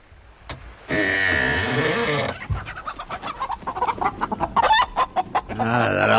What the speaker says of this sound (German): Siehst du, da ist der Hühnerstall.